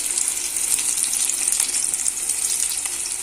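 Lote fish pakora frying in hot oil gives a steady, bright sizzle with crackling pops. It is close and continuous, with no talk.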